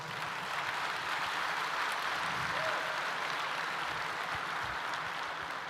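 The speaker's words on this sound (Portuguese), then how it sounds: "Você quer dar um aplauso ao Senhor?" A church congregation at a conference applauds in a soft, distant, sustained wash of clapping that holds steady for several seconds, with no clear voices.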